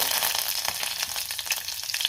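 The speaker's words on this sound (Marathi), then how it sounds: "त्यातच मी हिरवी मिरची आणि कढीपत्ता घालते," Green chillies and curry leaves hit hot oil with mustard seeds and cumin, giving a loud, busy sizzle full of tiny crackles that carries on without a break, close up and with no talking.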